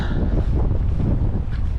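Strong wind buffets the microphone outdoors in a village where a DJI Flip drone is being flown, a loud continuous low rumble with no pauses and no voice.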